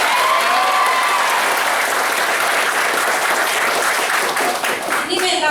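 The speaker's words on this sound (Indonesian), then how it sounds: "Tepuk tangannya." A large audience at a hospital's 2016 kick-off event breaks into sustained applause, loud and dense throughout, easing slightly near the end.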